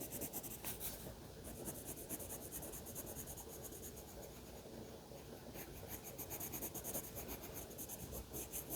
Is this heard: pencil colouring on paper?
yes